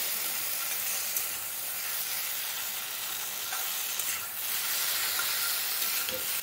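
Eggplant pieces sizzle steadily in hot oil in a pan for a vegetable curry of flat beans and potato, giving a close, continuous bright hiss with faint stirring.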